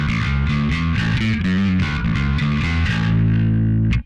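Darkglass B7K bass distortion at full gain, pushed further by a Harmonic Booster pedal: a loud, thick, fuzzy overdriven bass riff plays continuously and alone, ending on a sustained note that cuts off abruptly.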